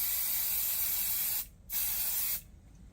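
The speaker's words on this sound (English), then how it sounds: "So there's my first spray" Spray glue hisses from an aerosol can in long steady sprays, cut by two brief pauses, close and fairly loud.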